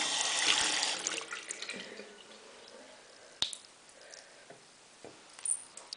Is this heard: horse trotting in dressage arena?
no